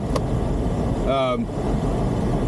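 Inside a front-wheel-drive Chevy Cruze in freezing Midwest winter, the heater blows on max with a constant, loud broadband whoosh, broken briefly by a short rising tonal chirp midway.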